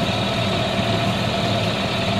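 A boat engine motors steadily out of Kristiansund harbour, a constant close low drone with an even throb and no change in pace, no voices.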